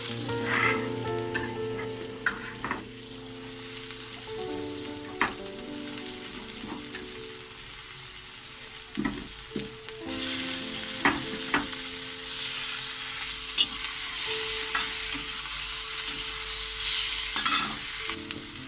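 Chopped onion and green chili frying in a kadai with a continuous close sizzle, broken by repeated scraping stirs and spoon knocks, the frying growing brighter and louder in the second half.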